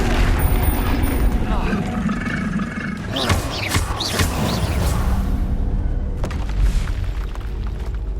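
Confringo blasting spells cast in Hogwarts Legacy, booming explosive bursts with roaring rumble among other game sounds, while a voice speaks over the action.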